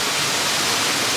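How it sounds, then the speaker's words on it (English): Steady broadband roar of a waterfall reached at the end of a hiking trail with stream crossings, loud and continuous with no voices. "Okay, I made it to the waterfall."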